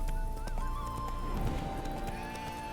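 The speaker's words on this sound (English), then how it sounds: "Spooking my horse." A spooked horse in the video game Witcher 3 whinnies and stamps its hooves, a short sharp neigh and clopping up close over a sustained musical drone.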